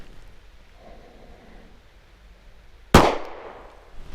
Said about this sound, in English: So I just put most of those shots through one tiny ragged hole at 1 inch.